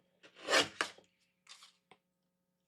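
White cardstock is trimmed down for a spring shaker card: a few quiet, close rasping cuts, one longer stroke followed by shorter scrapes, with silence between them.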